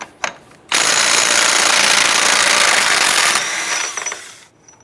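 A power tool loosens the axle nut with a 36mm socket on a 2002–2007 Jeep Liberty front hub, a loud, close, continuous rattling impact burst of about three seconds, tapering off at the end.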